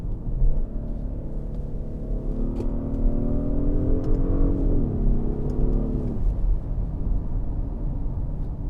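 A 2025 Genesis G80 Sport's 375 hp engine, paired with an 8-speed automatic, climbs in pitch under acceleration, drops at an upshift, then settles into a steady drone, heard from inside the cabin at moderate volume.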